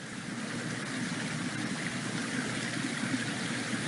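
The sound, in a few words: Mill Creek stream flowing in Mill Canyon, Nevada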